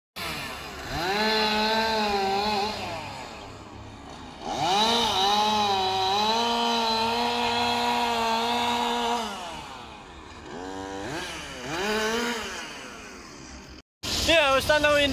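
Trees being cut down on a construction site at the Efteling theme park: a chainsaw revs up and down in long whining bursts at mid distance, with people talking nearby.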